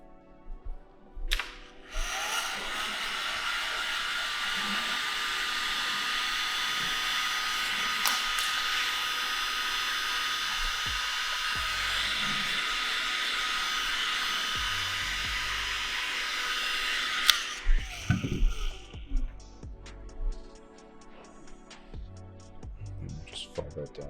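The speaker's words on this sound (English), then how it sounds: "So you'll grab your heat gun." A heat gun blows hot air in a steady, loud whooshing hiss for about fifteen seconds, with faint handling noises underneath, before it shuts off and some light clatter follows.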